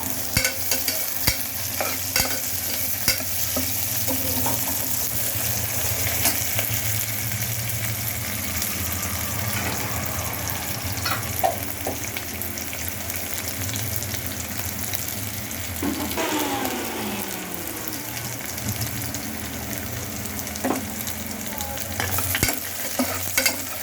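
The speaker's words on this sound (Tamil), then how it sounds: "இது நல்லா வதங்கிடுச்சு பொன்னிறமாக வதங்கிட்டு" Onions and small shallots sautéing in a pan for a plain biryani (kuska), a steady close sizzle with occasional stirring scrapes running throughout, no talking.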